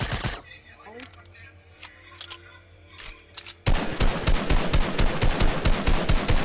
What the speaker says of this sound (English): Oh, gunshot.